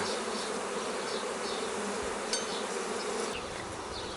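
A dense swarm of honeybees at a new nest buzzes continuously, a steady close hum with a few individual bees passing nearer.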